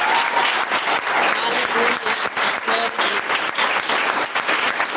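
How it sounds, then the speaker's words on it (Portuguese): A standing church congregation gives a loud round of applause to Jesus during an evening service, continuous dense clapping with voices calling out praise over it. "dá uma salva de palmas para o Rei Jesus."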